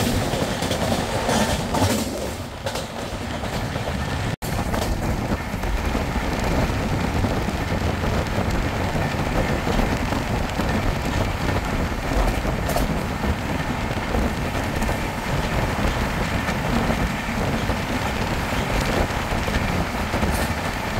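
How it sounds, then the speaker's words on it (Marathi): Onboard the Goa Sampark Kranti Express (12450) running at speed after leaving Adavali station on a foggy December morning: a steady loud roar of wheels and rushing wind, with faint rhythmic clatter throughout and no voices. "तर खूप स्पीडने आडवली स्टेशन ही ट्रेनने सोडलं आहे आणि खूप मस्त असा स्पीड ट्रेनने घेतला आहे"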